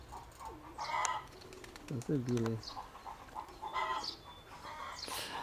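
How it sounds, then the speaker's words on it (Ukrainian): Pigeons coo and flutter near the coop, short soft calls and wing noises scattered among a man's speech. "Один голуб появився. О, два бачу вже."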